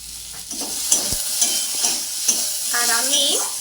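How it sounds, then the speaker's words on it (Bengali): Vegetable curry with tomato and turmeric is stirred in a frying pan, a quiet sizzle broken by regular spatula scrapes and taps. A brief squeaky whine comes near the end. "ভালো করে নাড়বো"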